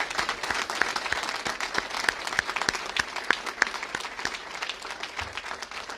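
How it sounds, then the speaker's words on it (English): An audience claps steadily and densely for healthcare heroes at an Illinois public health event, a continuous wash of applause with no voices over it for the full stretch. "can we give them another round of applause"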